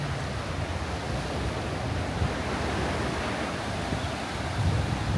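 Steady wash of surf rolling onto a quiet, uncrowded beach near Chumphon, Thailand, a continuous broadband roar with a slightly heavier swell near the end and no voices.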